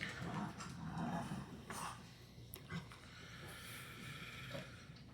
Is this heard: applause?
no